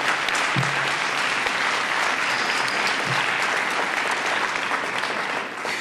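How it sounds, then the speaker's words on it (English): Steady audience applause at a community gala honoring scholars in Charlottesville, a dense, even wash of clapping from a large crowd that holds at full level throughout and eases slightly at the very end. "we want to just give them applause"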